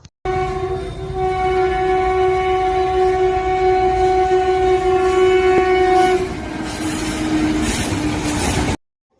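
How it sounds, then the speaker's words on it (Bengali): A cartoon-style train effect from a Bengali animation: a loud, sustained multi-tone horn over rumbling wheels for several seconds, then the clatter continues alone before stopping abruptly. "কিছুক্ষণের ভিতরে ট্রেনটি এসে আমাকে এক দিলিকে নিয়ে চলে গেল ঢাকা"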